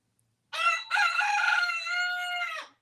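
A rooster crows once, a single long, clear cock-a-doodle-doo heard close up against near silence.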